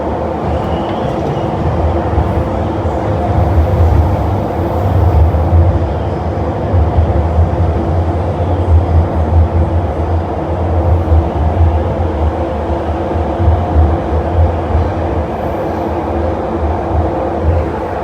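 A Hong Kong MTR C train runs at Shek Kip Mei station, producing a loud, sustained low rumble with steady rolling and motor noise for the whole stretch. No voices can be heard.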